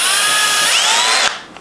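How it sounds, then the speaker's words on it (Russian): Power drill boring into a car ball joint clamped in a bench vise: a loud, continuous high-pitched whine with rising tonal squeal as the bit bites metal, then it stops abruptly, leaving a faint click. "Я зажимаю шаровую в тиски, как мне удобно, и просто начинаю сверлить."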